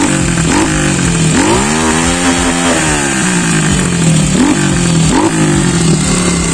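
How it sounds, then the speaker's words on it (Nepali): A Revit 250 motorcycle with a single exhaust revs loudly up close, its engine note sweeping up and down in several throttle blips over a constant rumbling idle. "नै हो है रेभिट 250 को साउन्ड। यस्तो सिङ्गल एक्जिस्ट भएको हुन्छ है।"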